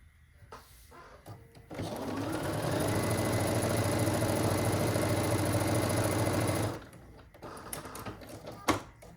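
Sewing machine stitching pieces of a quilt-as-you-go quilt: a fast, steady mechanical whirring run of about five seconds that starts and stops abruptly, with quieter handling clicks before and after.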